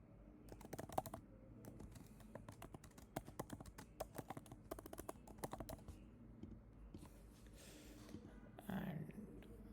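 Rapid, fairly quiet typing on a computer keyboard while setting up a quiz flow in WhatsApp Manager, a busy run of keystrokes that thins out near the end, with a faint voice in the background.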